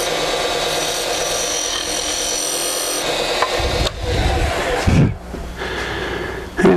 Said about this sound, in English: the toe of the skew is almost kind of acting like a scraper